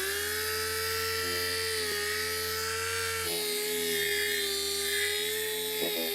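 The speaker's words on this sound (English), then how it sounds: "I'm gonna do a 3-stage wet sand job because these are really bad, and then a 2-stage buff job" Steady high-pitched whine of a power sander or buffer working a badly yellowed car headlight lens on a repossessed Alpina B7, running continuously and loud with a slight shift in pitch partway through.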